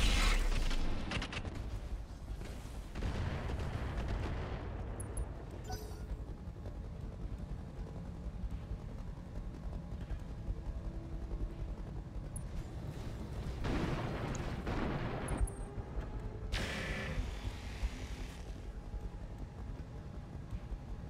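In a modded Battletech video game, a mech fires all its weapons at once, making a sustained, dense roar of rumbling blasts and heavy mechanical booms that keeps up with little letup for about twenty seconds.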